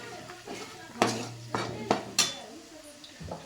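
A spoon stirs chili powder into roasted garlic in a pan for a spicy black val bean curry, with a few sharp scrapes and metallic clinks over a faint sizzle.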